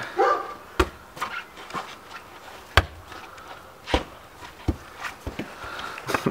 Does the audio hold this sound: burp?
no